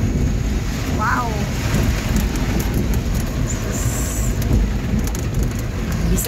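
Heavy rain in Cebu pours down in a dense, loud, unbroken hiss that fills the whole stretch, with a brief voice audible under the downpour.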